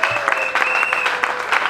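A church congregation claps to acclaim the Lord, a short burst of brisk, close applause with a sustained tone and a voice underneath.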